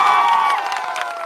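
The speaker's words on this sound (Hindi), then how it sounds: "ताली अब बजा लो, ताली जिसको जितना बजाना है।" A large crowd at a political rally in Katihar, Bihar cheers and shouts loudly, a dense, continuous roar filling the brief moment.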